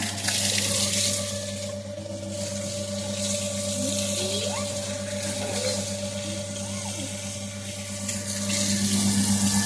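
Water running steadily from a household tap during washing, a constant splashing stream with a steady low hum beneath it, close by and continuous, with faint sounds of something being handled in the water.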